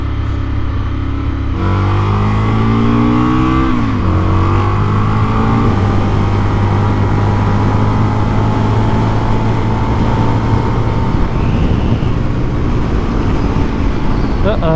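A 2019 Indian FTR 1200 S motorcycle accelerates hard on a race track, its engine rising and shifting through gears in a loud, continuous roar with heavy wind rush from an onboard position.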